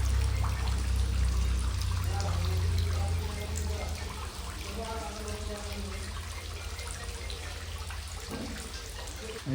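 Water pours and trickles into bags while tangra fish fry are packed, a continuous splashing dribble near the microphone with low background rumble and some faint voices.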